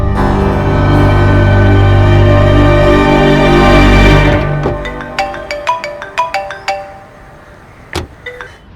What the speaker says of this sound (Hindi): ठीक है, देव को कॉल करती हूँ।